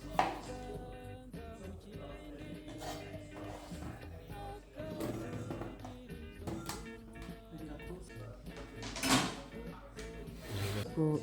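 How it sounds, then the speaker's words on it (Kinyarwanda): Potatoes being cut with a knife for a chicken tray bake, a series of close, uneven chopping knocks against a board mixed with handling clatter and faint background voices. "dukeneyemo ibirayi, murabireba uko turimo kubikata"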